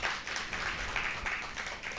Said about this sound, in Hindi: एक बार इनके लिए जोरदार तालियां हो जाएं।